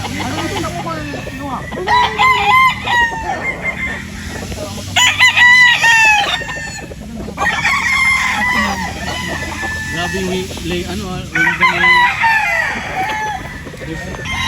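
Gamefowl roosters of the Possum Sweater bloodline crow repeatedly on a farm, several loud overlapping cock-a-doodle-doos in bursts with clucking between them, fairly close, over steady outdoor background.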